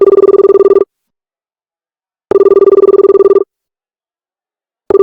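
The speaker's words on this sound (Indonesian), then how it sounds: "Bentar ya, gue angkat telepon dulu." A telephone bell rings loudly in two long bursts of rapid trilling, separated by a silent pause, with a third ring just starting at the end; no one speaks over it.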